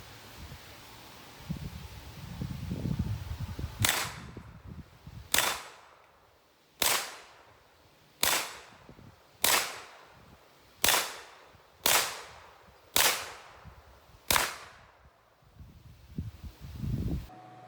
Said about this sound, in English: let's try these cast reloads and see what happens. We're going to try them on some steel targets